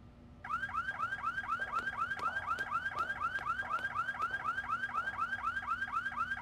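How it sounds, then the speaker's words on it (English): A museum exhibit alarm in the video game Dreamfall: The Longest Journey sounds on its own with a fast, looping electronic warble that starts suddenly and repeats at a steady, loud, even pulse. "Touching the exhibits will trigger the alarm."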